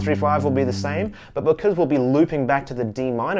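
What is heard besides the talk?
No distinct noise like a dog, phone or traffic.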